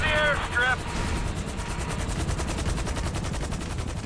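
Helicopters and gunfire in the GTA V video game: a dense, loud rapid rattle of automatic fire over a chopping rotor drone, with a voice speaking briefly at the start.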